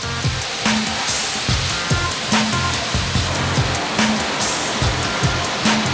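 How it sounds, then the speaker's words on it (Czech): A large rotating drum tumbling mineral-rich sand material with water and sieving out stones, a loud continuous watery churn with regular rhythmic thumps and splashes repeating roughly every second. "Tento velký rotující buben pak míchá materiál s vodou a prosívá všechny zbývající kameny."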